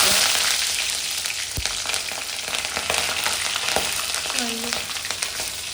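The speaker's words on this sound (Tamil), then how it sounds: "அதில் வந்து எண்ணெய் சூடானதுக்கப்புறம் கடுகு போட்டுக்காங்க." Mustard seeds, cinnamon, cloves, cardamom and green chili crackle and sizzle in hot oil for egg rice, a close, continuous frying hiss with scattered pops and a few stirring knocks.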